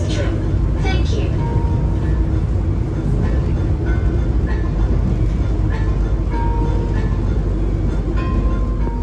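Inside a running Taksaka passenger train, a loud steady rumble of the moving train fills the whole stretch, with faint intermittent tones over it and a voice announcing on the public address.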